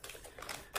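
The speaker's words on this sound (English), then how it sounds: "Let me just unwrap that." Crinkly, crackling plastic packaging of a Disney Elsa figure from Frozen being torn open up close, a string of quick rustles ending in a louder rip.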